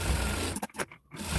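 A sewing machine stitching the front piece of a saree blouse runs in a steady, close mechanical whir that breaks off briefly into short bursts and a pause before resuming.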